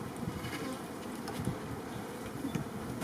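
Honey bees swarm and buzz around an opened hive during an early-season inspection, a dense, continuous hum with individual bees droning past close by, fairly faint overall.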